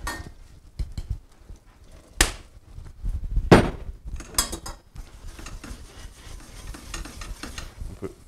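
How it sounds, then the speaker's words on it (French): Butter melted in a pan being stirred with a utensil, with scraping and clinking of metal against the pan over a soft sizzle, near and fairly quiet, with no talking. "Voilà, ici mon beurre est fondu."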